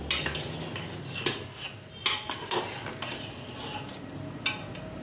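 A spoon scrapes and clinks against a metal pot as chicken yakhni is stirred and fried, with repeated clattering strokes over a steady sizzle close by.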